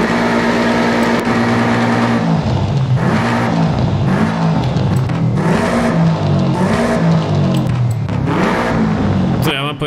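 In the Forza Horizon 5 game, a car engine with an upgraded exhaust revs in repeated rising and falling bursts, loud and close, while people talk over it.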